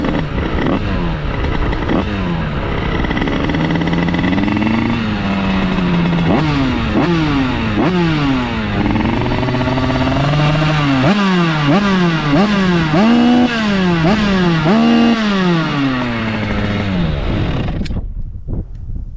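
A tuned 86cc motorcycle engine, heard up close, rises through a series of sharp throttle blips and revs, each falling quickly back toward a buzzing idle, before cutting off at the end.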